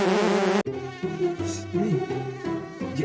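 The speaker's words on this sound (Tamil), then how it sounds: "என்னடா இவ்வளவு கொசு மேய்ச்சிட்டு இருக்க," Mosquitoes buzzing in a steady, high, whining drone with faint wavering tones, fairly close and continuous, after a brief louder burst at the start.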